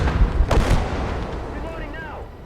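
Artillery fire in a WWII video game battle, a loud close boom at the start, then a second sharp blast and a long rumbling decay with a faint whistling tail.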